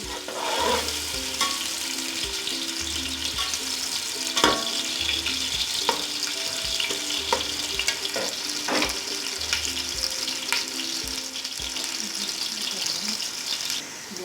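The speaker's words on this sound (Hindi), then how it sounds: "हमने हाई फ्लेम पे इसको फ्राई करना है, प्याज को गोल्डन ब्राउन होने तक।" Sliced onions fry on a high flame for chicken pulao, giving a continuous sizzle with repeated clanks and scrapes of stirring. Faint running water is heard in the background.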